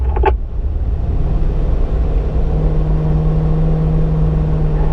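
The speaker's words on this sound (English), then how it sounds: "making our way up into 5th gear, about halfway down the back straight" Car engine on a track pulling up into fifth gear halfway down the back straight, a steady loud drone with a rising tone held throughout, a brief clatter near the start.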